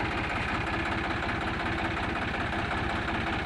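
A John Deere 5038 D 40-horsepower tractor engine idles steadily nearby, a low rhythmic chugging that continues evenly without a break.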